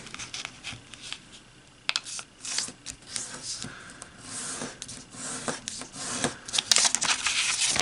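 Origami paper being folded and sharply creased for a modular ninja star ring, giving close, irregular crinkling and rustling bursts with sharper crackles toward the end, no talking.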